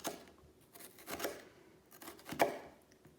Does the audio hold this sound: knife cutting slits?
yes